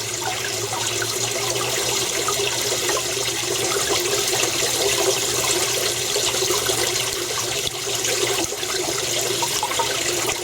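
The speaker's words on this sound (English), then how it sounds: "water just started coming out of this" Steady stream of water pours into an aquaponics grow bed with a bell siphon, a continuous close splashing rush that holds an even level throughout with no voices.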